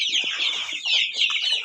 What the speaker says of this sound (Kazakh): уже домашний тауықтар